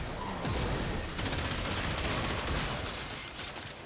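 A shotgun in a video game fires in a rapid, dense volley of loud blasts that overlap into a sustained roar of gunfire with no one talking.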